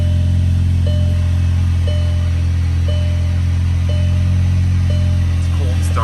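A 2016 VW Passat 1.8 engine idles after a cold start with a loud, steady low rumble, while a soft chime repeats about once a second over it.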